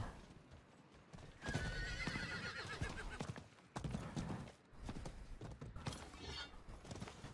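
A horse in the video game Diablo IV whinnies and snorts while its hooves clip-clop in a steady rhythm, heard close and clear over quiet game ambience.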